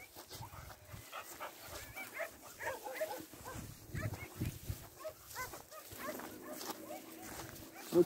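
Dogs barking outdoors in open countryside, with scattered short barks and whimpers at moderate distance, wind and occasional voices in the background.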